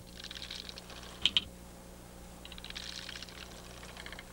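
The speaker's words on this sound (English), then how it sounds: "the soldiers sound their clicking alarm by beating their heads on the ground" Soldier termites beat their heads on the ground as an alarm: soft, rapid clicking in irregular bursts, with a couple of sharper ticks standing out, faint against a low steady background hum.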